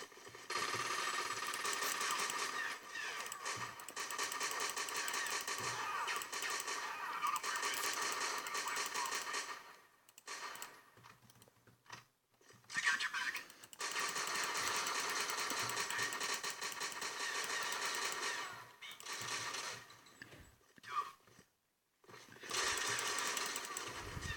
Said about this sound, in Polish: Już słychać strzały.